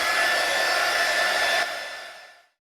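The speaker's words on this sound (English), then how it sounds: "I'm going to use my heat gun." A heat gun blows steadily while drying glue on a crafted tumbler, a loud even airy whoosh that runs for a couple of seconds, then winds down and cuts off.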